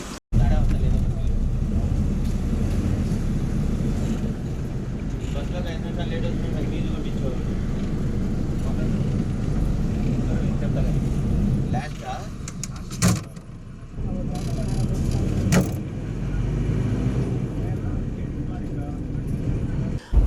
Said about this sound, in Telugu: ఇక సాయంత్రం 6:10 మన బస్ తిరిగి బయలుదేరింది